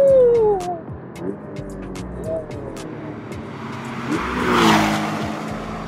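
A Porsche 718 Boxster GTS with a 2.5-litre turbocharged four-cylinder engine revs hard in Sport Response mode, its pitch sweeping up and down through gear changes before building to a loud, rising surge near the end.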